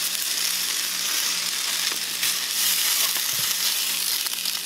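Tomatoes cooking slowly in a pan over low heat give a steady, soft sizzle that runs unbroken, with a couple of faint knocks partway through and no talking.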